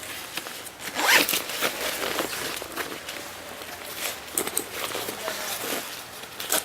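A zipper on a Deuter ACT Trail 32 backpack is pulled open in a few quick, close rasping strokes, followed by soft fabric handling and light rustling.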